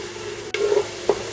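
Chilli, salt and turmeric masala fries in a pan with a steady sizzle. A couple of brief scraping stirs from a spoon stand out close by, and no one speaks.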